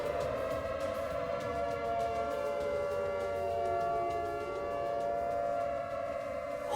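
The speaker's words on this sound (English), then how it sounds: "Did you not hear the sirens?" A wailing siren rises and falls steadily, loud and continuous, with layered tones sweeping slightly in pitch throughout.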